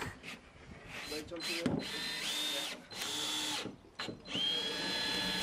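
A power drill drives screws down through cladding sheets along the spars of a summerhouse shed, several close whirring bursts with short gaps between them, under a voice heard in the background.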